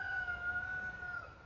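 Rooster crowing as a single sustained, fairly faint call carried on steady tones, heard outdoors with no talk over it.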